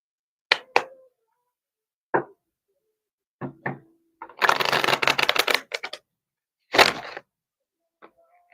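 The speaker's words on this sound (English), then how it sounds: "I'm going to shuffle these cards up." A deck of tarot cards is handled and shuffled up close: scattered taps and flicks, then a dense riffling burst lasting about a second, a second short riffle, and a final light tap.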